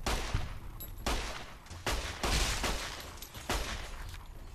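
Weapon fire in Fallout: New Vegas around Goodsprings, a series of sharp, loud gunshot bursts at irregular intervals, each with a short rumbling tail, close and without talk.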